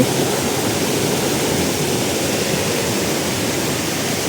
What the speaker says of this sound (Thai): ก็คล้ายๆน้ำตกทั่วไปเลยครับ